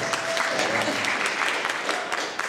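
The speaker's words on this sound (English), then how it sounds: "Give it up. We're all about applause here." An audience at a convention panel claps enthusiastically, a sustained dense rattle of hands with a few sharp individual claps poking through.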